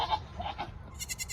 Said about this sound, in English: There's the goat just making noise